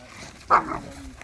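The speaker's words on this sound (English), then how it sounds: "There was a little bit of a bark at Nala." A single short dog bark rising briefly over a quiet indoor background, with soft voices murmuring around it.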